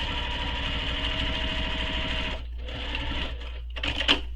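A sewing machine top-stitches the open end of a fabric backpack, running in a steady humming stitch burst, pausing briefly, then making two shorter runs with a small clack near the end.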